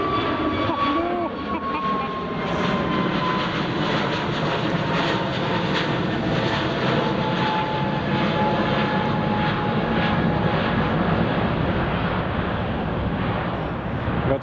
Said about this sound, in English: I forgot the American A321 was taken off